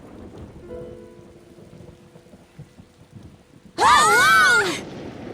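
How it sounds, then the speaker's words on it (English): Thunderstorm in the game Tales of Xillia 2, a low steady wash of rain with distant rumbling, then a sudden loud burst of sound lasting about a second and a half. "Man, this thunder's pretty intense, huh?"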